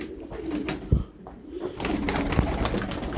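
Tumbler pigeons cooing nearby in a steady, soft stream of low calls, with a few sharper flutters and knocks mixed in.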